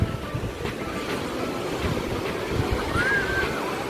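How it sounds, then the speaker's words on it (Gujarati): Steady, rushing roar of sea waves washing in continuously at Somnath, with no voices, just a constant wash of surf. "દરિયાના પાણીનો અવાજ એટલો મીઠો આવે"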